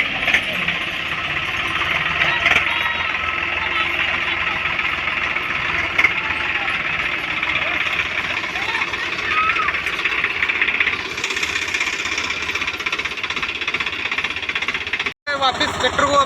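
A tractor engine runs continuously at a steady chugging idle, fairly close, with faint voices in the background and a brief cut near the end.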